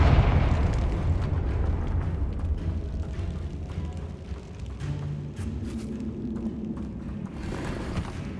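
A Confringo blasting spell goes off in Hogwarts Legacy with a loud, rumbling explosion, followed by a stretch of crackling debris and fading rumble, and then a smaller burst near the end.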